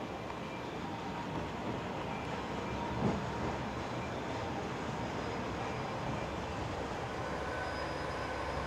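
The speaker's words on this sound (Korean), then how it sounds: "기차 오나?" A local passenger train pulls into a small rural Japanese station, a steady low rumble of rolling wheels and running gear holding evenly throughout, with a brief louder knock near the middle.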